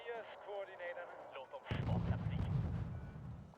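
Gunfire in a video game, starting as a sudden loud burst about halfway through and leaving a dense, booming rumble, after brief talk over quieter game sounds.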